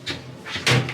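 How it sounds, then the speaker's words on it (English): A cruise ship cabin shower door swings inward, giving a few quick close knocks and rattles with a louder bump near the end, all within about a second. "The door kind of swings inward like that to save space"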